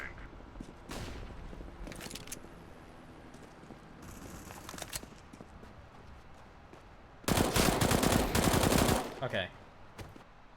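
Gunfire in a first-person shooter video game: bursts of rapid automatic fire, several short volleys and one long loud burst near the end, over quieter game background.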